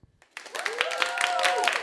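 A party audience breaks into applause after a near-silent moment, with scattered claps swelling into a moderate round while a voice talks over it.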